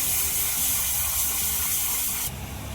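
Garlic-ginger paste hits hot oil in a wok, giving a loud, steady hiss of sizzling that shifts brighter near the end, close and continuous with no talk.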